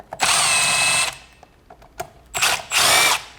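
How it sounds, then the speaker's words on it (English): A power tool unscrews the steering wheel backing plate bolts on a Land Rover Defender: a loud, close whirring burst, a pause with small clicks, then two more whirring bursts. "the 3 bolts, we simply unscrew one after the other"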